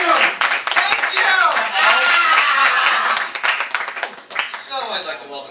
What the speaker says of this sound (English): Can I just get a round of applause, please?